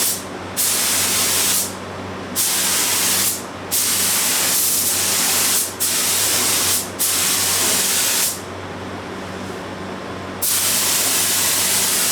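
Spray paint hisses from an aerosol can onto a car's front bumper in loud, steady bursts of about one to two seconds, with short pauses between passes.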